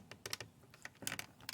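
A Mercedes GLK car window switch is pressed down repeatedly, giving a run of faint, close plastic clicks and taps in irregular bursts, quiet and without talk.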